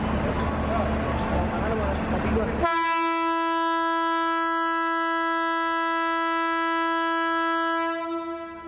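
A loud, sustained horn from electric locomotive SS3201 blares steadily for several seconds, following a burst of rumbling noise, then tapers off at the end.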